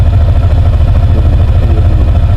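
A 150 cc liquid-cooled, fuel-injected four-stroke, four-valve single-cylinder motorcycle engine running loud and close, a steady low throbbing drone with a fast mechanical patter and no pauses.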